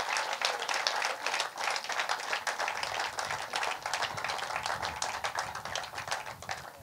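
Audience applause at the launch of a cricket ground stadium in Namibia: dense, steady clapping from a crowd, sustained at an even level throughout with no speech over it.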